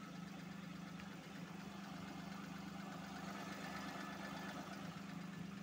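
A Maruti Alto car engine idling quietly, a low, even hum with a faint steady rumble and no revving, heard up close and continuous.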